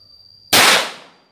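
A single sharp, loud shot from a Taurus M83s .38 Special revolver, an abrupt blast that rings out and decays over about a second, alone with no talk.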